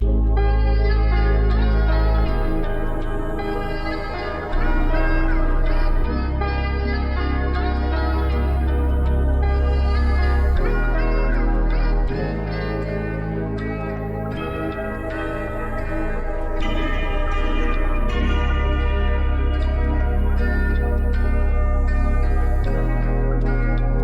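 A pitched-down, deep R&B vocal sample made in FL Studio loops over a heavy, booming bassline, playing continuously at steady volume with no other voices.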